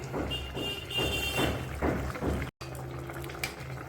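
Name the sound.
cauliflower potato curry simmering on the stove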